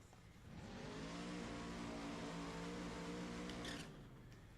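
A loud, sustained video game drag racing car engine roar with nitrous and a Pro Mod sound, holding steady at high revs for a few seconds, then easing off slightly at the end.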